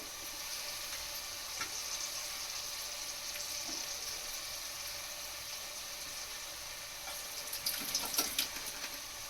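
Tomatoes frying in a pan after ginger and garlic for pav bhaji, a steady soft hiss of sizzling with a few brighter crackles and stirring scrapes near the end, quiet and without talk.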